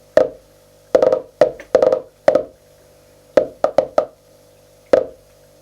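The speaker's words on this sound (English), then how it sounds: "it's triggering drum 1 if I turn up the volume." Metasonix D1000 drum module firing its first drum voice, a series of short, sharp percussive hits in an uneven pattern with silence between strikes, played alone.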